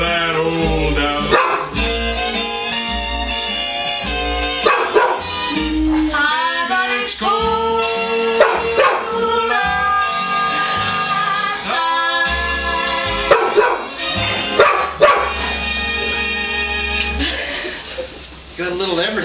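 Dogs barking amid busy, overlapping talk and laughter, the barks and yips coming in bursts through the whole stretch with a mix of voices close by.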